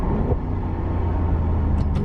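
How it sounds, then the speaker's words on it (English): Steady low engine rumble from a 2019 Maserati Levante GTS, a 550 hp SUV, heard from inside the cabin with a window cracked open, continuous and fairly loud through a downshift. "we'll crack the window here, do some downshifts"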